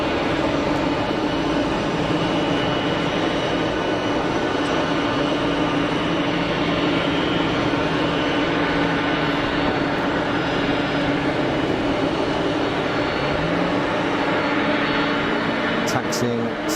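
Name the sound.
Boeing 767-300 taxiing at Geneva Airport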